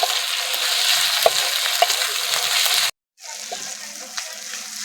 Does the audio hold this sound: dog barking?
no